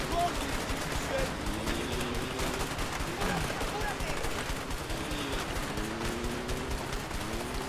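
Gunfire rattles continuously during a chase in A Way Out, a steady, fairly distant fusillade of shots beneath engine noise and action sounds, with voices talking over it.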